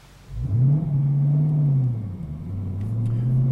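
Dodge Challenger fitted with a Barton shifter out on a test drive, its engine rising into a deep, loud rumble that holds steady, dips slightly, then builds again as the car pulls along, with no voices.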